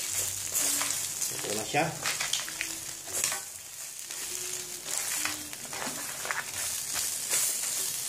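Mud crab with chili, salt and garlic fries loudly in a pan, with a steady sizzle and crackle and a few stirring scrapes, while a voice speaks briefly over the cooking.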